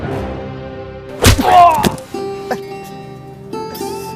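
A staged beating of a person, with a short burst of heavy thuds and whacks near the middle, loud and close, and voices around the blows.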